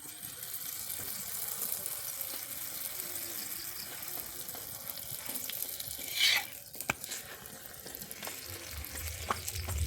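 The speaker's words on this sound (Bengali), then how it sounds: "আমি এবারে একে একে পরোটাগুলোকে ভেজে নেবো" Palm fruit parathas fry in white oil on a pan, giving a steady soft sizzle throughout with a brief sharper crackle burst partway through and a few faint clinks, no talking.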